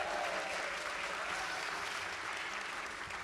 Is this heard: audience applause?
yes